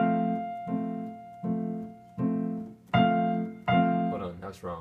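Piano chords played in a repeating pattern, the verse of a song voiced as chord notes over left-hand whole notes: six or seven sustained struck chords in steady rhythm, close and clear, ending in quicker notes.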